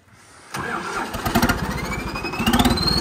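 A John Deere tractor with a large U-shaped exhaust pipe starts from quiet and revs. The loud engine roar comes in pulsing bursts, with a rising whistle-like tone from the exhaust.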